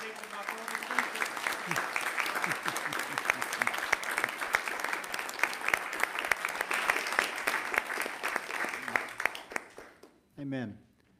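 A United Methodist church congregation at a Christmas cantata applauds the instrumentalists and accompaniment, with loud, sustained clapping for about ten seconds that fades out, followed by a brief spoken voice.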